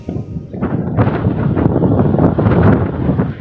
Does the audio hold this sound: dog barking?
no